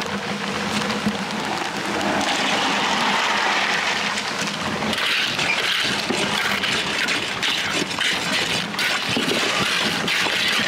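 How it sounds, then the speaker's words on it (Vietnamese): Steady rain pours down outdoors at a rural concrete bridge-pouring site, a continuous dense hiss with no talking, holding at a constant loud level throughout. "bây giờ mưa tiếp tục nữa nè"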